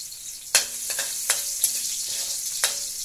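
Garlic sautés in a pan for pancit, a steady close sizzle broken by several sharp utensil taps and scrapes against the pan, with no talking.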